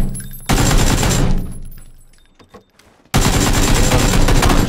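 Rapid automatic gunfire from a PUBG match, loud bursts that fill the opening second and the final stretch, with a brief lull and scattered single shots between.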